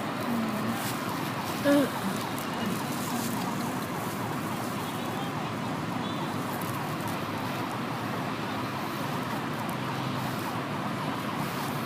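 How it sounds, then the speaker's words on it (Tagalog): A fire truck siren wails faintly in the distance amid steady traffic noise and a busy outdoor background near a fire in Bacoor. "Isa pala yung bumbero."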